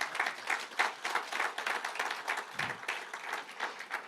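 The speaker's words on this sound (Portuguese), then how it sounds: "E se tu pode dar uma ofrenda de aplauso" A congregation applauds at an anniversary church service, many hands clapping in a lively, uneven patter that pulses slightly, moderately loud and without speech.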